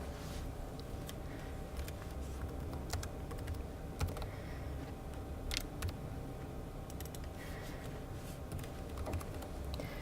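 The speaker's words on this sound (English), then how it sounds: "you can just double click anywhere on the board and start typing" Quiet, continuous typing on a computer keyboard, with a steady patter of soft key clicks over a low hum of room noise.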